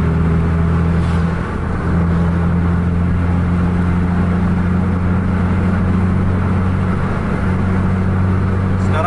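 Two red Scania trucks cruise at 100 km/h on a road lined with parked trucks. A loud, steady engine drone with a low tonal hum holds throughout, dipping briefly once, and no one speaks.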